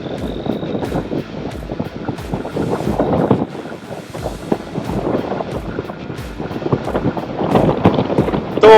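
Strong wind roars across the microphone while a 2021 Honda CB200X touring motorcycle cruises at about 80 km/h, with loud buffeting gusts and an engine drone underneath, no talking.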